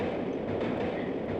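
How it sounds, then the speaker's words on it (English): Train rumbling past in the Aldwych underground station level of Tomb Raider 3, a short, steady, muffled low roar with no voices. "Now we've lit the place up, we can see that train going by."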